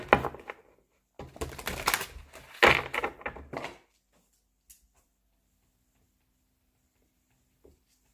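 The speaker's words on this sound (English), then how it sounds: "All of this shuffling, I promise, this is the last time I'm doing this." Tarot cards being shuffled in bursts of crisp riffling and tapping, close and fairly loud for about four seconds, then near silence with a couple of faint taps.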